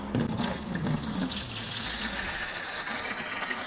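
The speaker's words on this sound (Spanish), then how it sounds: "lo que voy a hacer en este momento es ponerle el agua" Water pours steadily into a repaired plastic container, a continuous gushing fill that stays fairly loud and even throughout with no talking.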